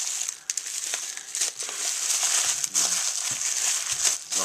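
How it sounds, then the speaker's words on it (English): Plastic bag wrapping around a shipped Bob Long Closer paintball marker crinkles and rustles steadily as it is handled and unwrapped, with sharper crackles near the end and no talking. "Wrapped up in a plastic bag."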